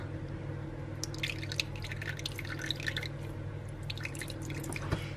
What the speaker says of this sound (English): And we're also going to add in 2 tablespoons of water.